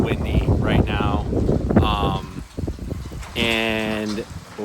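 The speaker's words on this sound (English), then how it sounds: "you guys can probably hear, like, it is crazy windy right now." Strong wind gusts buffet the microphone outdoors on a Texas hog-hunting trip, a continuous rushing roar that stays loud throughout while a person talks over it.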